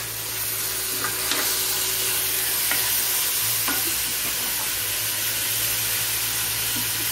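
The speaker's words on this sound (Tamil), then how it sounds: "இப்ப நம்ம தக்காளி போட்டுக்கலாம்." Tomatoes sizzling and frying in a pan for a kanava (squid) fish curry, with a steady close hiss and crackle, occasional stirring scrapes and pops, no talking.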